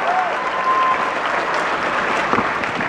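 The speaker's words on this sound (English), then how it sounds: "Round of applause for Mr. Ace and Syria" Steady round of applause from a live studio audience, dense clapping at a constant level for about three seconds with no voices on top.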